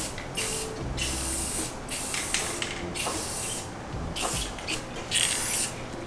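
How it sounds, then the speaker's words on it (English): Spray paint hisses in repeated bursts into the crevices of a 1979 Odyssey FL250 two-stroke off-road go kart frame, close and steady with short pauses between blasts. "we're just going to shoot a little bit of spray paint in these crevices"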